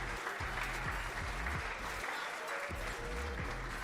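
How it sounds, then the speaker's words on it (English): Audience applause at a rugby academy graduation ceremony, a steady wash of clapping held at an even level throughout, with a low rumble and scattered voices underneath. "Give them another round of applause, please."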